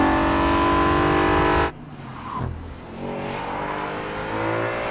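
A brand new Audi RS5 Cabriolet revs loudly and closely for a moment, then the engine cuts off abruptly, leaving a quieter background with faint mechanical sounds.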